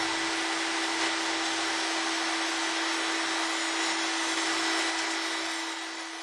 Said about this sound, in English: the router is used with a straight cutter set to depth. A series of plunge cuts are made to remove the wood.